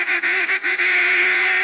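An AI-generated duck quacks loudly and continuously in a strained, screaming tone, with a few brief dips in one harsh, sustained cry.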